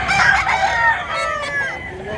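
A rooster crows once up close, a loud, strained cock-a-doodle-doo that rises and then trails off over about two seconds.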